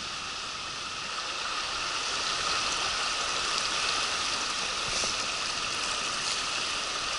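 A mountain river rushes along its upper reaches, a continuous broadband hiss of flowing water over stones, steady and fairly close, with no voices.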